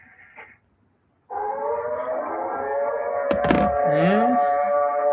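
A civil defense tornado siren starts after a short pause and holds a loud steady wailing tone, with a brief thump partway through and a faint voice early on.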